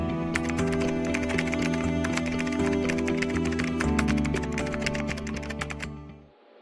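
Rapid, steady typing of code on a computer keyboard, dense overlapping keystrokes continuing loudly and close for several seconds before stopping abruptly, with no talk.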